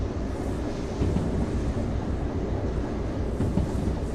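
A freight train rolls along the track in the Derail Valley VR game, a steady, close, low rumble of wheels and cars that swells slightly now and then, with no talking.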